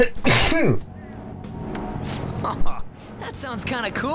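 One sharp sneeze bursts out near the start, followed by a person speaking casually and a few more short vocal sounds.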